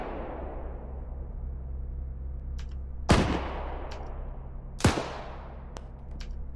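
Two sharp, loud gunshot cracks in the Arma 3 military shooter, each ringing out with a long tail over a steady low rumble of vehicle and battlefield ambience, with faint distant pops scattered between them.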